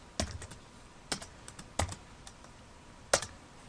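Code is typed on a computer keyboard in a few separate bursts of sharp key clicks, close and fairly quiet, against a near-silent background.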